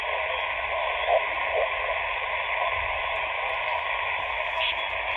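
Detuned AM radio static hissing from a Sony ICF-SW55 world band receiver set to lower sideband, a steady band-limited noise with faint warbles and small blips throughout, close and constant.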